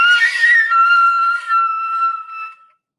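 Flute extended technique: a sharp blast of air into a high overtone that then eases down into a steady, whistling sustained pitch, fading out after about two and a half seconds.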